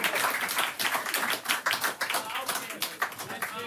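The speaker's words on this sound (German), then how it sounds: "Gib einen Applaus." A television talk show studio audience claps in a quick, scattered burst of many hands, with voices talking over and between the applause.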